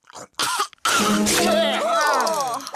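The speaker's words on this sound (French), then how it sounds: "quand on tousse, on met sa main devant sa bouche" A couple of short, sharp coughs, then a voice starts talking.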